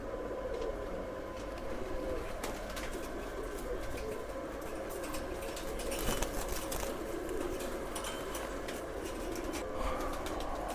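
Jalidar Missay pigeon cooing softly in a loft in Jammu, low throaty coos repeating through a steady background of other birds and faint distant rail noise.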